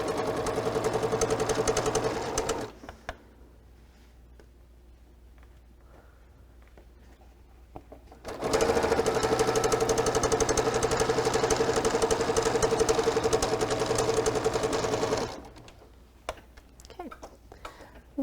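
Sewing machine stitching a border seam on a quilt: two long, steady runs of loud, continuous motor whir, broken by a quiet gap with small handling sounds.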